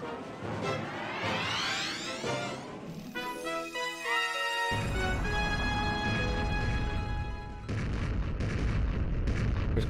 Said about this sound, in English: Dreadnought's Colossal Cannons.